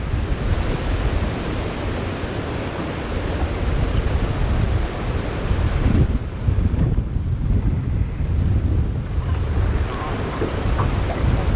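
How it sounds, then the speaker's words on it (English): Outdoors at a fishing spot, strong wind buffets the microphone with a constant roar, mixed with the rush of shifting water flow. Steady and loud throughout, with a brief lull midway, and no one talking. "wind and ever-changing water flow is not conducive."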